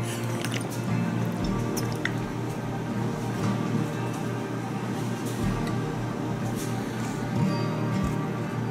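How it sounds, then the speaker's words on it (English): Oil poured into a hot cast iron pan while cooking Ethiopian misir wat gives a close, steady crackling sizzle with scattered drips throughout. "We'll put some oil to the bottom of the pan."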